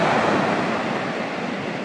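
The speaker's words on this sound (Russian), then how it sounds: "Вот там сейчас будет волна." Winter sea waves at Mersin, Turkey, break on the shore in a loud, dense, continuous wash of surf, mixed with wind buffeting the microphone and no voices.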